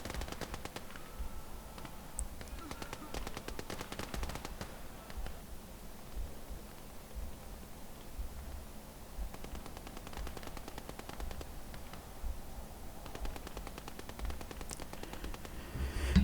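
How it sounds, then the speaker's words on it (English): Machine gun fire rattles through a battle in Call to Arms: Gates of Hell, a Finland skirmish, with dense bursts of rapid shots early on, then quieter stretches and renewed volleys near the end, fairly distant and without voices. "It's got to be a Maxim, right? It's got to just be a machine gun."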